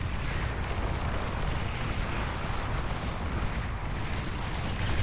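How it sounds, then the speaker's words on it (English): Heavy continuous rumbling barrage of explosions from a large bombing run in the real-time strategy game Beyond All Reason, dense and loud without clear gaps between blasts. "As we got a big bombing run now coming in"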